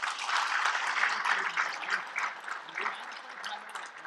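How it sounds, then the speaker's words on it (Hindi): Applause from an audience at a political speech rolls on steadily, a moderately loud wash of clapping heard alone without voices. "इसलिए जोरदार ताली उनके लिए।"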